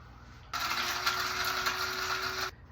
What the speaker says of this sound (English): So I use a coffee grinder, and that was so much better.